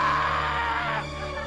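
A comedian on stage imitates a horror-movie victim's exaggerated, bawling scream, one loud, sustained, strained vocal wail lasting over a second that drops slightly in pitch toward the end.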